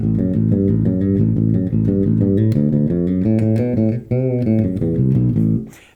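Electric bass plays the second phrase of a bass line, a brisk sequence of short, punchy notes with a quick rising fill, close and loud and alone, fading at the end.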